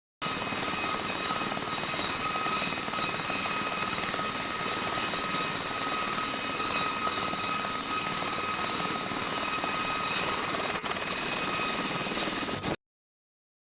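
A helicopter's high, steady rotor whistle rings continuously over a broad engine roar, loud and close, then cuts off abruptly near the end.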